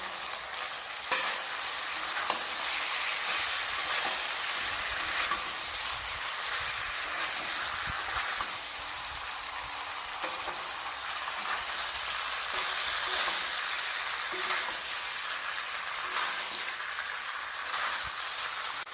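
Ground coriander and cumin paste sizzles and fries steadily in a pan for a Bengali duck curry, a continuous broadband crackle with occasional stirring scrapes, close and even throughout with no talking.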